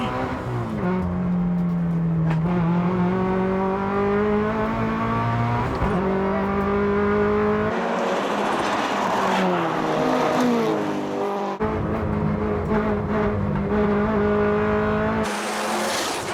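Race cars battling on a mountain pass hairpin section, engines wailing through rising and falling revs with shifts, one car closing then passing, loud and close throughout with bursts of tire and road noise.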